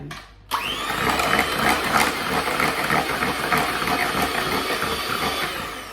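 An electric whisk beats a runny gluten-free banana loaf batter, starting after a short pause and then running as a steady, close, loud whirring drone with rattling against the bowl.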